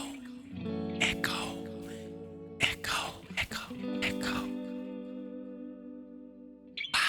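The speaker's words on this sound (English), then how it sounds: "I'm gonna turn a little bit of reverb, a little bit of echo." A voice sings and speaks through a Lekato wireless microphone system with reverb and echo effects added, the phrases trailing off in lingering echoing tails between bursts.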